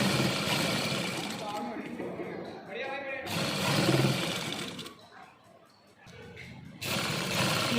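Sewing machine stitching a seam on a simple shirt, pulling the raw edge inside; a dense mechanical whir runs in bursts with pauses between, fairly close and loud.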